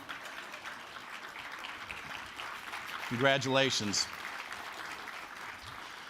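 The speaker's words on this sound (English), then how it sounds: "Please stand up for a round of applause if you're out there." A conference audience at a plenary lunch applauds winning mayors: a steady wash of clapping from many hands fills the room, while a speaker's voice briefly rises above it partway through.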